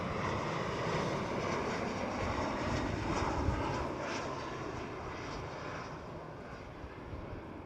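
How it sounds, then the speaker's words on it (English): An Air France Hop Embraer E190 jet roars steadily at Amsterdam Schiphol, a loud broadband engine rumble and hiss that holds throughout and eases only slightly toward the end. "Air France Hop with an E190."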